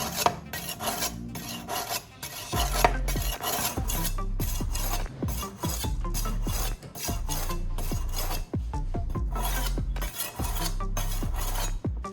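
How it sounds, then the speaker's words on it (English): A blade is rubbed back and forth across a homemade sharpening block after rust removal, a steady rasping scrape in repeated strokes, loud and close with no talking. "I will begin sharpening to bring back the blade sharpness"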